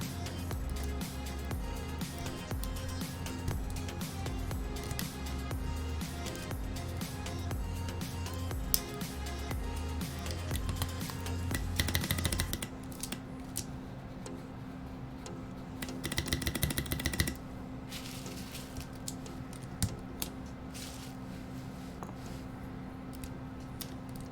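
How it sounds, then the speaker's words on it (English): Keycaps being pressed onto a computer keyboard: close, soft plastic clicks and taps in irregular runs, with a low steady hum beneath that drops away partway through. "We're gonna throw these keycaps on there."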